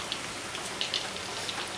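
Hmong egg rolls fry in hot oil with a soft continuous crackle and scattered sharp pops, close and moderately quiet, with no one talking.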